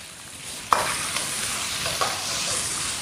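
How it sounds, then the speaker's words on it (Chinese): Cured pork hits hot oil in a wok, left over from pan-frying tofu, and sizzles steadily and close up, with a couple of sharp spatula clacks against the metal as it is stirred. "油留在锅里面，下入腊肉"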